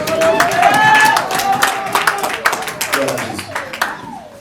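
A church congregation at a Gabonese Christian service applauds the word of the Lord, rapid clapping running under sung or spoken voices and thinning toward the end.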